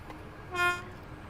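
Electric commuter train in Train Sim World 2 on the Cathcart Circle, giving off a brief rising-and-falling tonal whine of rheostatic braking, a cluster of steady pitched tones swelling for about a quarter second over a low rumble.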